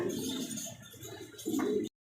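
A pair of jet-black Holy Cooper pigeons coo in low, rolling calls nearby, ending with a brief burst of fluttering or handling sound after a short cutoff.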